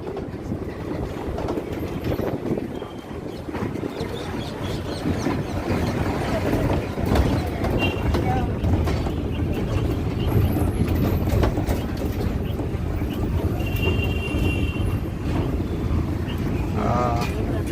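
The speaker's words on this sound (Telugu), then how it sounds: "ఆ ట్రైన్ వెళ్తుంది కదా" A train rolls past close by, a continuous heavy rumble with rattling clatter that swells slightly and holds steady for the whole stretch.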